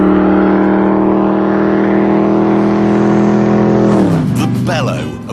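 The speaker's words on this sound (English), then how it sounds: "The bellow of a V8 Ford Mustang." A V8 Ford Mustang engine bellows loud and close, a deep steady roar that holds, then drops sharply in pitch as the car sweeps past near the end.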